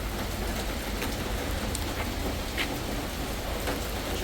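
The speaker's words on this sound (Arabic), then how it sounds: "شوف المطر، مطر وفي عاصفة كمان معه." Heavy summer rain pours steadily in a storm, a dense, constant roar of falling water with occasional sharper drips and spatters close by.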